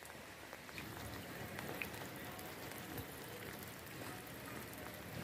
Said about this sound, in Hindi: अल्लाह ताला ने अपनी रहमत की जो है वो बारिश बरसाई है